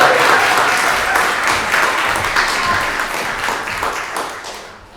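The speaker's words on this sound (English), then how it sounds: "Everybody give a very loud, warm applause" An audience at a spring book launch breaks into loud, warm applause, thick continuous clapping that slowly tapers off as it winds down.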